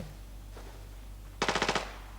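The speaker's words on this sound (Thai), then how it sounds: "เสียงปืนโคตรสวยโคตรเพราะ" A short burst of rapid automatic gunfire in the video game Arena Breakout, about six shots in quick succession, after a single faint shot earlier over a low steady hum.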